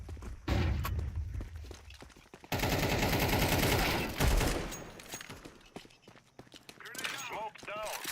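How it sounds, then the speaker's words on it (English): A flashbang grenade goes off in Counter-Strike 2, with loud harsh bursts and clattering gunfire-like crackle in two main waves, followed by quieter scattered in-game sounds. "Flashbang out."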